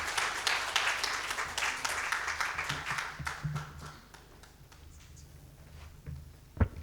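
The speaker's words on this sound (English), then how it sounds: "Another round of applause to Dr. Aboud Suleiman Jumbe." Audience applause for a speaker at a talk on fisheries and the blue economy, dense clapping for about four seconds that thins out and fades, leaving a few scattered claps.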